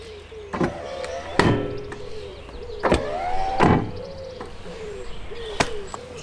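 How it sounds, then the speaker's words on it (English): Electric entry step of a 2012 Burstner Nexxo T660 motorhome extending, heard as a series of short mechanical clunks and whirring motor bursts spaced a second or two apart, close by, with birds cooing faintly outdoors. "we've got a fancy electric step"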